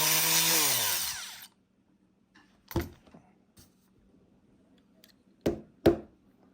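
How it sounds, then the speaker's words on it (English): A small power drill boring out a stuck flint in a Zippo lighter, a close whirring burst that winds down within about a second, followed by quiet with a few sharp taps and clicks. "Now let's see if we got it drilled out here."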